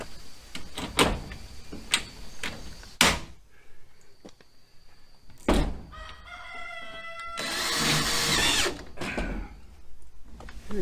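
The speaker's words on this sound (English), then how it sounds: "And go ahead and do some riveting here." A power tool sets rivets while a buck house is built, giving several sharp separate pops, then a short whirring burst, with roosters crowing and clucking nearby.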